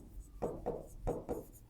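Chalk or marker writing on a board in a classroom lesson, four quick scratchy strokes in two pairs, close and fairly clear, with no talking.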